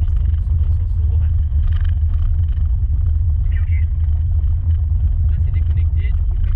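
A Mitsubishi car lapping the Tignes ice circuit gives a steady, loud low engine rumble heard from inside the cabin for several seconds, with faint higher scraping and clicks over the drone.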